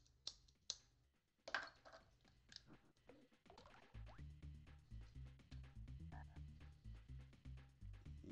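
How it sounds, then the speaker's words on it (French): Frog croaking in the SNES game The Flintstones, a series of short springy croaks scattered over a repeating bouncy game music loop that grows fuller halfway through. "Putain de grenouille."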